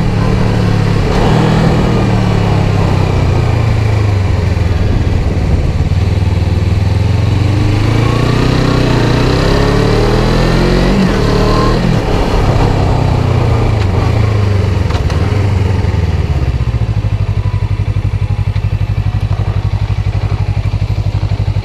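A Suzuki Inazuma GW250 motorcycle with a 3Tech exhaust and dB killer fitted putters and burbles nearby, rising briefly in revs mid-way before settling back to a steady, quiet idle.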